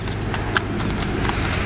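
A horse's hooves clip-clop in a quick, steady rhythm, the close, regular footfalls of a gaited mare moving along at an even pace over a constant background rumble.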